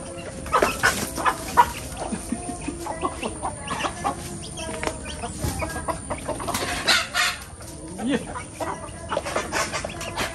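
Hens cluck in repeated short bursts across the scene, several birds close by and irregular, with occasional squawks amid village farmyard background noise.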